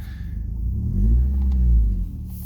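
A car engine revs during a test drive of a vehicle showing a check engine light and an evap leak code, a low rumbling surge that swells, holds and then eases off, close by with no talk.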